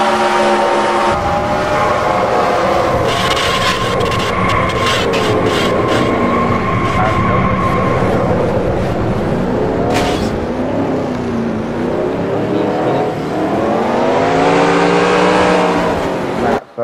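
Onboard race car engine in the NASCAR Racing 2003 simulator at Las Vegas, a steady loud droning roar with shifting pitch as the car accelerates and lifts, continuous throughout.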